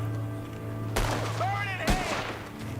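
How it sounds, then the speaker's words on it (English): Two sharp gunshots ring out about a second apart in a Wild West shooting video game, with swooping ricochet-like tones between them over steady background game sound. "What's he shooting at?"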